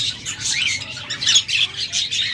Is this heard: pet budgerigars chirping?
yes